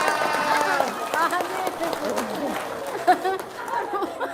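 An audience at a religious talk breaks into applause, clapping and crowd chatter filling the room at moderate loudness, with talking over it.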